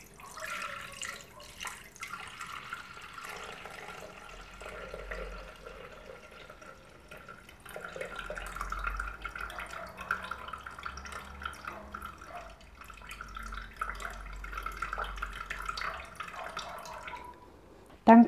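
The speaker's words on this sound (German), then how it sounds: "jetzt werde ich die Waage einschalten und werde gucken, dass ich 500 Gramm von dem Orangensaft einwiege" Orange juice trickles and splashes softly into a container on a kitchen scale, a faint liquid pour with quiet drips running through most of the stretch.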